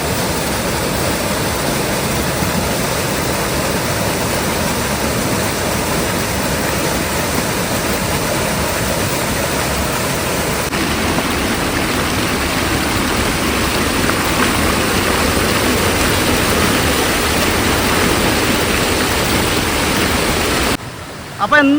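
Waterfall pouring over rocks at Peppara Dam near Vithura, a steady, loud, broadband rush of falling water that stays close and continuous, with a brief dip and shift near the end.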